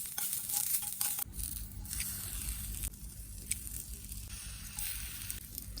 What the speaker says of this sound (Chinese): 现在来烤虾